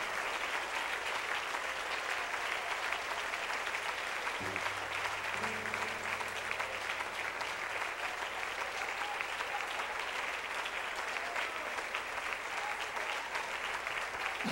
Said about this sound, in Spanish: Aplaude por el milagro en tu casa. Aplaude, aplaude.